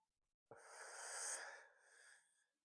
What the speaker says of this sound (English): You're breathing harder.